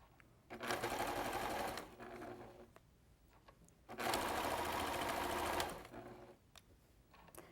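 A sewing machine chain-pieces quilt squares, running in two quick bursts of steady stitching with short pauses between them. The machine is close and fairly quiet.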